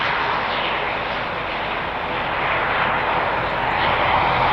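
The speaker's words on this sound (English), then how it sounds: "That's an ATR. Whose is it? Air Nostrum. That's the 72." An Air Nostrum ATR 72 turboprop airliner at Madrid Barajas Airport gives off a loud, continuous engine roar that stays steady and close, with no voices over it.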